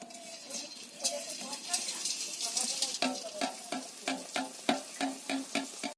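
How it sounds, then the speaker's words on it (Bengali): Red boondi batter drips through a perforated ladle into hot oil in a wok, producing crisp sizzling bursts in a steady rhythmic series of taps, close and fairly quiet. "তেলটা গরম হয়ে গেছে আর এরকম একটা আমি ছান্তা নিয়েছি, আর ছান্তার মধ্যে এই লাল রঙের ব্যাটারটা আমি দেব"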